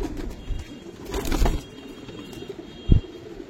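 Giribaz pigeons, including black-necked and silver birds, coo softly in a low rolling murmur nearby, with a couple of louder thumps and rustles breaking in.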